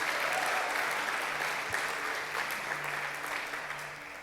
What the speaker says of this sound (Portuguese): Você pode aplaudir o nome maravilhoso de Jesus?